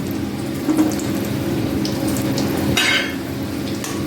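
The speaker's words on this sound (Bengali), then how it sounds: "এবারে এগুলো তেলের মধ্যে ভেজে নিচ্ছি" Potato and sattu khasta kachoris fry in hot oil, giving a steady close sizzle with bubbling and a brief louder crackling burst partway through, and no talk.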